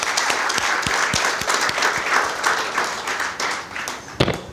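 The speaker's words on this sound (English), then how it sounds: "Give them another round of applause." An audience claps and applauds at an official event in St. Vincent and the Grenadines, a dense burst of many hands clapping at once that swells and then thins over a few seconds.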